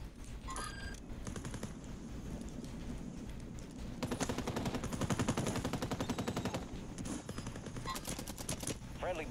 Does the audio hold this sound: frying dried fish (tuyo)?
no